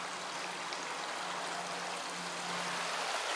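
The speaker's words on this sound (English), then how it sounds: "We have our very own bit of river." A small stretch of river on a rural property flows with a steady, broadband rush of water, continuous and fairly close, with no voices over it.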